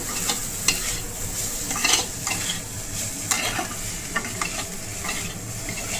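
Chicken momo filling frying in a pan, with a steady sizzle and repeated scrapes and clinks of a spatula stirring it, close and fairly loud throughout.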